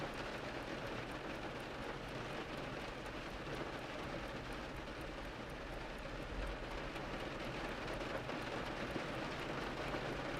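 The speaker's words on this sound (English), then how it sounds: "the rain is rushing down outside" Steady rain pouring down outside, a dense, even hiss and patter with low rumble that continues unbroken throughout.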